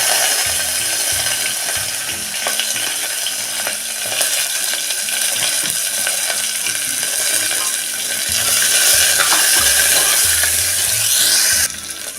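Chili, onion and curry leaves sizzle loudly and continuously in hot oil, with occasional clicks and scrapes from stirring in the pan.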